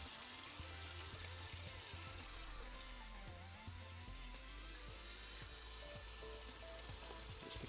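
Warm water runs from a tap into a sink or tray for photo developing, a steady close splashing hiss that softens slightly midway and then swells again.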